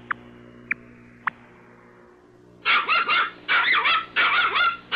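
A small dog in a Portuguese-language cartoon barks in a quick series of sharp yaps after three brief clicks, loud and close.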